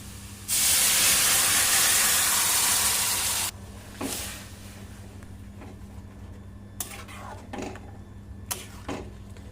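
Lentils drop into a pan of fried onion and garlic with a loud burst of sizzling hiss lasting about three seconds. It then settles into softer crackles and a few short sizzles close by.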